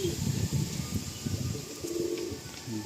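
Pigeons for sale at a breeders' gathering near Diamond Harbour coo and murmur continuously in the background, a low throaty burbling that carries on throughout the clip.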